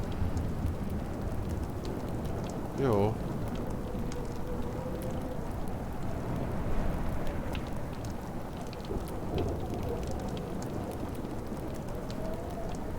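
A thunderstorm in the video game Life is Strange, with steady heavy rain on surfaces and rolling rumbles of thunder throughout; a short spoken word comes through once over the storm.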